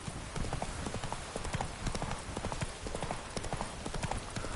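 Roach, the horse in The Witcher 3 video game, galloping: rapid, rhythmic hoofbeats clopping steadily throughout, moderately close and fairly quiet, with no talking.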